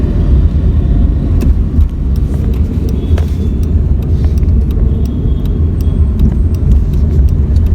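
A Tata Nano car is driven in gear, downhill, with a steady loud low engine drone and road rumble from inside the cabin, holding an even level throughout.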